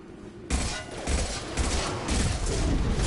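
Enemy gunfire in Mass Effect 2, a dense, loud barrage of shots starting abruptly after a short quiet lead-in and continuing in rapid overlapping bursts throughout.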